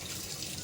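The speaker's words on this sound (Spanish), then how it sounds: "Déjenme que me lave las manos." Running tap water pours steadily over hands being washed in a kitchen, a close, continuous splashing hiss with no talk.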